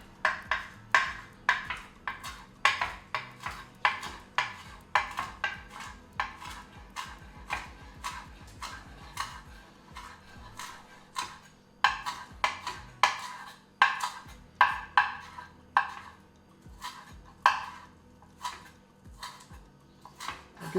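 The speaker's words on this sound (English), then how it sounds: "Now, I'm going to chop a little bit of chive, again, mostly for color." A knife chops chives on a cutting board for a mustard potato salad, making a steady run of sharp, close taps that pause briefly and then continue at an even rhythm, with no talking.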